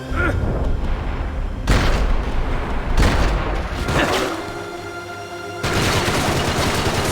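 Rapid bursts of video game gunfire crackle and boom loudly across the scene, with dense volleys breaking out in several surges and short pauses between them.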